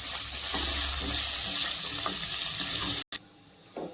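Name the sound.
sautéing garlic with cashews and curry leaves in a pan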